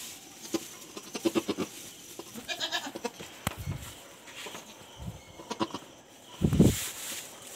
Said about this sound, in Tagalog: Nanganak na yung kambing natin.